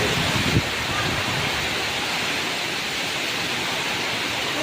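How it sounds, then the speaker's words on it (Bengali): Kalbaishakhi thunderstorm lashing a riverside fishing spot, a loud steady roar of wind and heavy rain with a brief louder gust near the start, continuous and close throughout. "কালবৈশাখী ঝড় এটা। মাছ মারতে এসে ঝড়ের হানায়"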